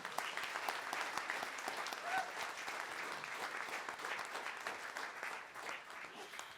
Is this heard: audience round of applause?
yes